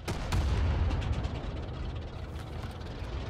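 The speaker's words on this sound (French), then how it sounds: "Je vais lui jeter une petite grenade." A grenade blast in Rising Storm 2: Vietnam with the Winter War mod. A sharp crack opens into a loud, sustained low rumble that slowly fades under distant battle noise.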